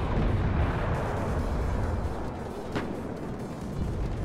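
Artillery fire rumbles continuously through a WARNO real-time strategy battle, a dense, heavy barrage of booms with one sharper crack partway through, steady and loud without talk.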